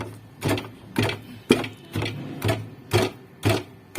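A wooden ginger-garlic pestle pounds dry pieces of mutton in a pot over a flame, giving steady, evenly spaced thuds about twice per second, close and clear with no talking.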